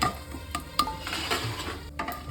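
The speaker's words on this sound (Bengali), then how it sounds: "এটা একটু লাল লাল করে ভাজা হবে।" Mustard seeds, a pinch of panch phoron and a bay leaf fry in a little oil for thor chhechki. The sizzle is quiet and soft, with light clinks of a utensil against the pan.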